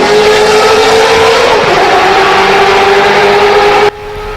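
A BMW M3 GTR race car's engine roars loud and close in a sustained, high-pitched howl, dipping briefly mid-way before holding steady, then cutting off abruptly near the end.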